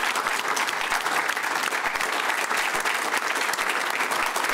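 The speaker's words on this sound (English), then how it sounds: "Keep the applause going, please, for Doug Anthony." Steady, dense applause from a large audience at a 2014 political party federal council, honouring Doug Anthony; a continuous loud wash of clapping with no break across the whole stretch.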